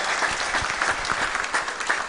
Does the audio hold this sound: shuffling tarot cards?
no